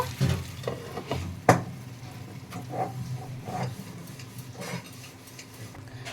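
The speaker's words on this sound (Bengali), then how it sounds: "ভালো করে নাড়িয়ে নেব হালকা হাতে।" Soybean chaap frying in a pan, gentle sizzling under scraping and clacking as a spoon stirs it, with one sharper knock, no talking.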